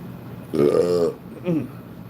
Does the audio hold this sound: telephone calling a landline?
no